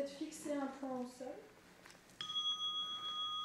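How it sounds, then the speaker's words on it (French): A meditation bell rings once, clear and sustained with a steady ringing tone that lingers to the end, following a few moments of talk. "Un son de cloche"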